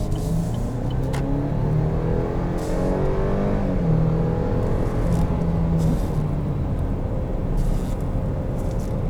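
A 2020 Chevrolet Blazer 2LT Redline Edition with a V6 accelerates, heard from inside the cabin as a steady, loud engine drone and road roar that builds over several seconds, with no talking.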